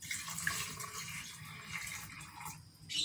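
Water pours steadily into the filter of a Cadence Robust 1000W blender, a continuous hissing splash close by that wavers slightly and ends with a brief louder gush.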